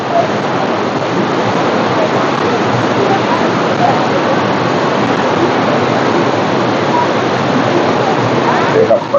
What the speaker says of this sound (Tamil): அப்படியே அந்த பாறை மேல பட்டு வர தண்ணி பாத்தீங்கன்னா